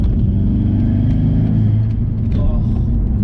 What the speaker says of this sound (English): What's That induction noise.